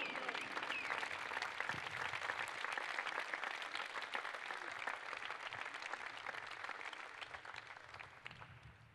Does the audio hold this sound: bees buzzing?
no